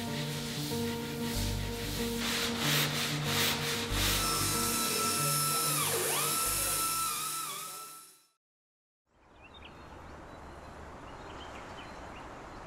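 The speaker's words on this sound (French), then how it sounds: "les gars sont en train de finir la découpe dans la mousse" Tools sanding and cutting through foam on a full-scale car styling model in a workshop: sustained loud rubbing and rasping with sliding pitch sweeps, then a brief silence and softer scraping afterward.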